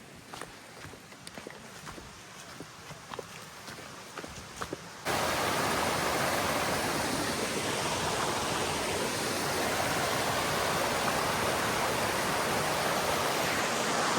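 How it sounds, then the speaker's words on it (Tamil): At a waterfall in the Vathalmalai hills of Dharmapuri, a few seconds of quiet with faint ticking steps give way to a loud, steady rush of falling water that continues to the end. "தண்ணி சவுண்ட் எங்கே கேட்குது அப்படிங்கப்பா."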